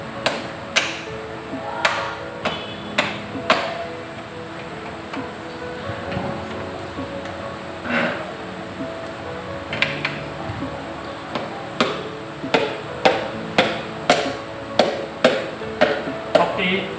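Sharp taps ring out irregularly as a piston is driven into an engine block with the handle of a rubber mallet, clear knocks over a low workshop hum.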